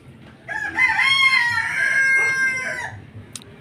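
A rooster crows loudly and close by in one long, drawn-out call among backyard chickens, followed by a brief cluck and soft farmyard noise.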